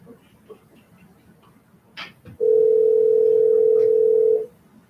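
A steady, loud dial tone sounds from a new desk telephone for about two seconds after a brief click of the handset, with faint room noise and murmur before it.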